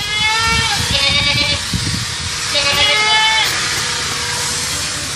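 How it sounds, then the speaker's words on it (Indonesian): Goats bleating at a goat farm in Bantul, several overlapping wavering calls close by and fairly loud, with people talking over them throughout. "Kita lihat-lihat kambing lagi."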